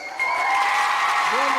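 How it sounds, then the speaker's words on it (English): A studio audience breaks into applause, a brief, loud burst of clapping that swells quickly and holds, with a voice speaking over its final moment. "Round of applause, jailers and gentlemen."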